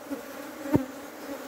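A swarm of angry Africanized honey bees drones in a continuous, close buzz, with one brief louder thump near the middle of the short stretch.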